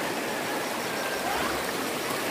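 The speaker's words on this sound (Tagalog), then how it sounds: "Ang ganda ng sapa." A stream in Marabatuan flows with a steady, broad rushing wash of water, close and continuous with no voices.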